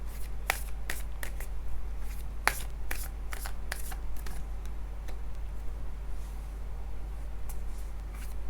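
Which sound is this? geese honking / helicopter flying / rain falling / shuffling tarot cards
shuffling tarot cards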